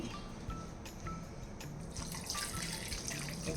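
Tap water runs steadily into a bowl of tamarind set to soak for brinjal pachi pulusu, a close, continuous trickle and splash that grows fuller partway through, with faint kitchen clinks and no talk.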